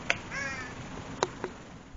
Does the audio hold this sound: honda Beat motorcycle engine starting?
no